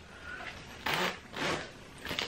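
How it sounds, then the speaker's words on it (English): Zipper on an oversized, soft nude-colored hoodless sweater being handled, giving three short rasping zips in quick succession, close and clear with no talking. "It's got the zipper detail here."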